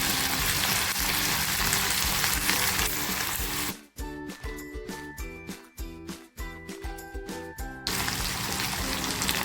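Ginger, coriander, green chili and garlic paste dropped into hot oil for a spicy small fish masala, a loud continuous sizzle that cuts out mid-clip to stirring clinks and tinkles before the frying roar returns.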